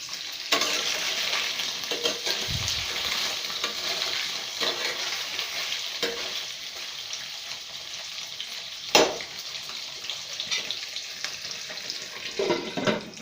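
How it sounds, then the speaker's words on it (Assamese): Continuous oily sizzling of paneer frying in a hot pan until browned, with occasional scrapes and stirs punctuating the frying throughout. "ৰঙচুৱা নোহোৱালৈকে ভাজি থাকিম পনীৰটো।"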